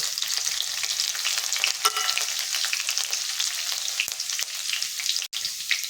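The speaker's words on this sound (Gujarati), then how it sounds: "તો હવે આપણે બધું જ આમાં તેલમાં લઈ લઈશું અને સાતરી લઈશું" Garlic and green chili sauté in hot oil with a steady, close bright sizzle and occasional stirring clicks, continuous throughout with a brief dip near the end.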